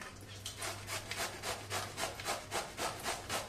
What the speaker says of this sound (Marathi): आता आपण खिसणीने दुधी खिसून घेऊया